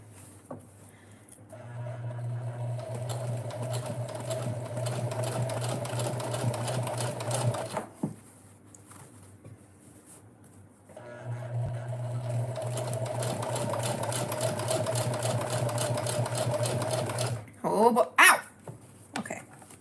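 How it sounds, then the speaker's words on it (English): A sewing machine stitches a curve in two long, steady running bursts with a pause between, then quick clicks and handling at the end; people talk softly over it. "Look at us go. Curve sewing."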